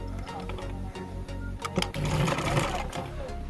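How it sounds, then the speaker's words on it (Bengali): A sewing machine stitches gathered extra fabric onto a garment, its steady mechanical whir running close and continuous through the whole stretch with a brief uneven burst partway. "এই যে এরকম ভাবে দেখুন কিভাবে সেলাই করছি,"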